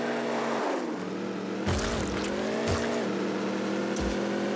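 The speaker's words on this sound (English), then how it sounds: "I don't think the acceleration sound matches the idle sound." Rocket League hot-rod car engine revving and shifting in pitch, loud and steady, punctuated by several sharp bursts of boost or impact noise.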